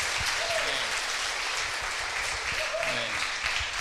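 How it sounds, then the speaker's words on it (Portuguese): A church congregation applauding during an Easter service, a dense, steady wash of clapping filling the hall throughout, with faint voices murmuring underneath. "Esse aplauso é para um homem, né?"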